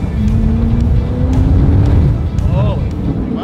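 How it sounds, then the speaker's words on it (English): An 1100hp twin turbo Ford GTX1 V8 rumbles loudly up close with a steady low growl and a faint rising turbo whine, and brief whooshing blow-off bursts cut through near the end. "But then that sound of the turbos and the blow valves."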